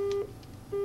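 Telephone ringing from a prank call in the Dreamcast game SNOW: two steady electronic ring tones, one near the start and one resuming near the end, separated by a short gap and heard alone without talk.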